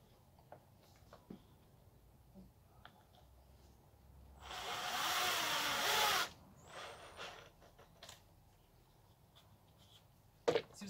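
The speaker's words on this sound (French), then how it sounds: "Si vous n'avez pas de visseuse électrique, franchement c'est la galère. Parce que là au moins ça tire super vite le bois" An electric screwdriver drives a screw into wood while building an upholstered headboard, one loud sustained whirring burst of about two seconds after a few light clicks, in an otherwise quiet room.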